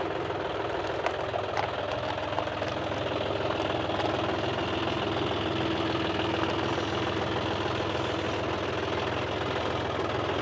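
A tractor engine idles and rumbles steadily while the tractor drives up onto a stone coated roof structure, a continuous loud mid-to-low drone with faint knocking and no pauses.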